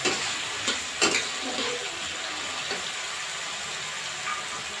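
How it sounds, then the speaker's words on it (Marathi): Onion sautéing in a pan: a steady, fairly loud sizzle throughout with a few brief stirring scrapes and clinks near the start, no voices. "आता मी याच्यामध्ये कांदा टाकते। कांदा व्यवस्थित परतून घ्यायचा।"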